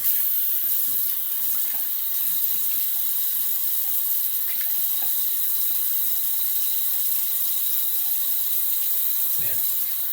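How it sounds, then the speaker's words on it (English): Tap water runs at a sink in a steady, continuous hiss while someone rinses off after a knife edge test, with a few faint knocks and handling noises underneath. "let me rinse off"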